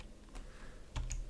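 Quick keystrokes on a computer keyboard while writing Python code, a few scattered clicks followed by a firmer burst of taps near the end, close and fairly quiet with no talking.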